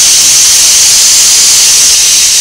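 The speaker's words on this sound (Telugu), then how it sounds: "ఐదో విజులు వచ్చినట్టండి," A pressure cooker whistles and vents steam while cooking millet for bisi bele bath, a loud, continuous, close hiss of escaping steam lasting throughout without pause or voices.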